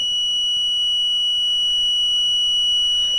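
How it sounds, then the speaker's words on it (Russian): A buzzer on a GTN 1200W 96V grid-tie inverter board, powered at 4.8 V, gives a loud, steady, piercing high tone. It holds without a break for the whole span, with no talk over it. "Вот прям такой зуммер дикий."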